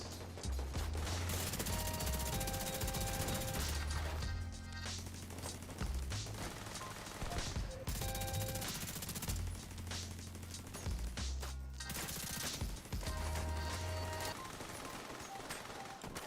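Dense gunfire in a shooter video game, with rapid automatic bursts, crashes and mechanical clatter. It plays loud and continuous over a layer of game music and effects.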